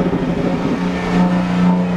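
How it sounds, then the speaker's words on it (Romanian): A 400-horsepower black car's engine runs loud and close at the Bucharest auto show, a deep steady rumble that swells slightly as it revs, with no talk over it. "Și mașina asta îmi place, se aude tare, are 400 de cai"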